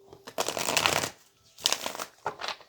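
Tarot cards are shuffled in three quick riffling bursts, close and crisp, with short pauses between them.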